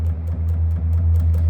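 A palm-muted low sixth guitar string is picked repeatedly, giving dull, thudding chugs over a strong sustained low hum, with several evenly spaced picked attacks in quick succession.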